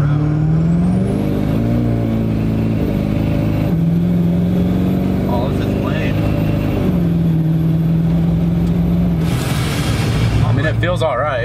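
A Duramax diesel pickup with a custom turbocharger intake and stock rods and pistons, heard driving: a loud, steady engine drone whose pitch shifts through the run, with a rising airy whoosh near the end.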